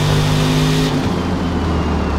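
A Corvette ZR1 engine in Forza Motorsport revs hard, then drops sharply in pitch as the gear shifts and keeps roaring, loud and close.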